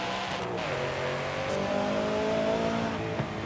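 A cammed, naturally aspirated V8 in Forza Horizon 5 revs hard and steadily, its rising harmonic engine note continuous and loud throughout with a mechanical edge, no voices.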